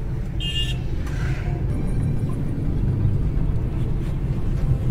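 A Hyundai Grand i10 Nios with a 1.2 litre engine cruises on a highway, its low rumbling drone and road noise loud and steady throughout, with no talk over it.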